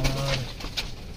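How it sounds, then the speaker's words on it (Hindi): Pigeons, including a Rampuri bird, give a brief soft coo close by during a bird show, heard alone. "कबूतर सारे एक्टिव है"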